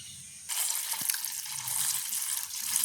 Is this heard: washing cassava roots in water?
yes